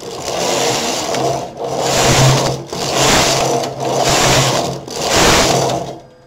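A domestic knitting machine knits several rows of jersey with every other needle working. The carriage makes five loud, close, rhythmic passes, each a grinding sweep separated by a short pause, with no voices.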